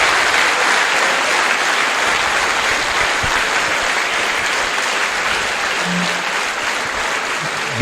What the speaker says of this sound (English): let's give him a round of applause and thank him